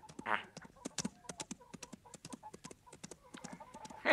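A horse's hooves clatter in a quick, steady galloping rhythm close by, in a Western film, with a short rough noise near the start and a sharp burst at the end.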